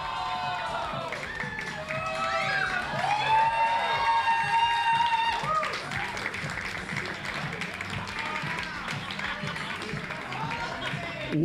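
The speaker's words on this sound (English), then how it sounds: "let's get another round of applause for those two, for Audrey specifically" An audience at a costume catwalk event applauds and cheers, clapping and whooping under a host's excited talk, with the crowd noise swelling midway and then tapering off.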